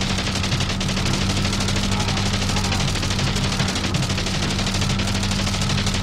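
Rapid continuous machine gun fire from a WWI biplane in the dogfighting game Wings Remastered, a steady rattling stream layered over a droning engine hum, loud and unbroken.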